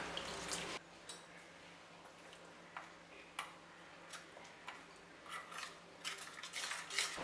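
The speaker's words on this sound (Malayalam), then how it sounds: "ഈ പുളിവെള്ളം ഒഴിച്ച് ബാക്കി മുളകുപൊടി ഒന്ന് കുഴച്ചെടുക്കണം" Chili powder is worked into tamarind water in a bowl for Kerala-style sardine curry, giving quiet, irregular clinks, taps and scrapes of a spoon against the bowl, with no one talking.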